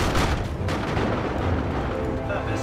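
Artillery fire in the real-time strategy game Dawn of War 2: Retribution, a dense, continuous rumble of booming impacts and shots layered through a busy late-game battle, loud and sustained throughout.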